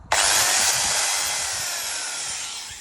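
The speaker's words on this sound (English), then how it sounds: "So I'm going to have to drill those out" A power drill bores into seized brake disc bolts, starting abruptly with a loud, high whining grind that holds steadily for nearly three seconds, slowly fading slightly, with no talking.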